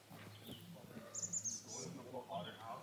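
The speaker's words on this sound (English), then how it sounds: "You can hear the birds chirping." Birds chirp in short bright bursts during an outdoor hike on a sunny day, faint and scattered over background noise and people talking.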